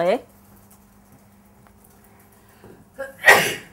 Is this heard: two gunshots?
no